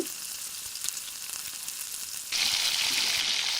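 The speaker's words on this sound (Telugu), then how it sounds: "నెక్స్ట్ మనం ముందుగా కట్ చేసి పెట్టుకున్న నీట్గా క్లీన్ చేసి పెట్టుకుని చాప ముక్కలు ఇందులో వేసేసుకోవాలి" Cleaned fish pieces go into a wide pan of hot oil for an Andhra-style raw mango fish curry, with a steady close sizzle that jumps louder and brighter partway through as more pieces hit the oil.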